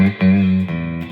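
Clean electric guitar played through a pedal board, a few firmly picked chords ringing out with bright sustained harmonics, each strum clearly separated and loud, with no voices.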